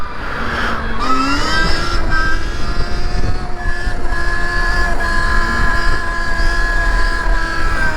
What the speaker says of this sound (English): We'll wheelie uphill here.